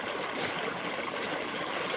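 Irrigation water flows across a field in a steady, close rushing wash with a light gurgle, unbroken from start to finish.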